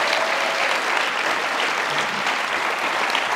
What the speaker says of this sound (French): On l'applaudit, Phil Rouleau.